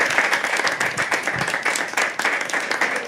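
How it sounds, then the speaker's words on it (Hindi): Dense audience applause at a live open-mic poetry event, loud and sustained, with many overlapping claps forming a continuous wash throughout. "एक बार जोरदार तालियां यार इराम के लिए"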